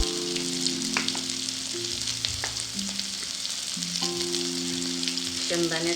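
Turmeric hits hot oil in a pan while cooking Khandeshi varan batti, sizzling and crackling steadily throughout, with some clinks of a utensil and a faint tonal hum underneath.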